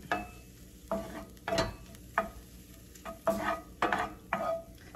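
Sliced mushrooms cook in wine in a pan and are stirred with a utensil. Repeated scraping strokes come in a loose rhythm over a soft sizzle, close and fairly loud.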